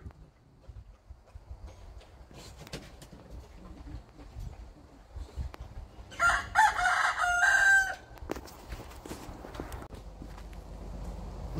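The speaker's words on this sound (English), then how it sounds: "I got a rooster that does the John Cena." A rooster crows once at moderate distance in a farmyard with hens, a loud drawn-out call standing out over faint outdoor background and scattered footsteps.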